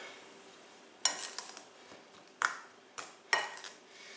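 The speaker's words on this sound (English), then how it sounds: "And then give this a stir." A few sharp clinks of a utensil against a bowl while stirring salt into cookie batter ingredients with confectioners sugar, scattered taps over a quiet background.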